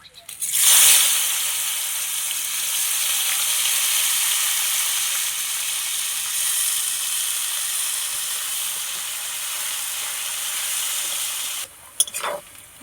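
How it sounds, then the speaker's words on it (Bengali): Continuous crackling sizzle of chopped onions frying in hot oil, steady and close, with a short clatter near the end. "পেঁয়াজগুলো ভালো লাল লাল করে ভাজা হয়ে গিয়েছে"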